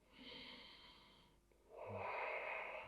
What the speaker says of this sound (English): 2 more big breaths here.